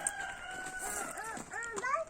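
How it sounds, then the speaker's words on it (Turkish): A rooster crows several times in quick succession from a backyard chicken coop, the calls rising and falling in pitch, with faint background noise and no one talking. "tavuk ötüyor horoz"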